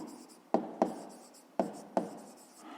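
A pen writes by hand on paper while working a fifth-grade maths exercise, giving soft scratching strokes with four sharp taps spaced irregularly, close and quiet.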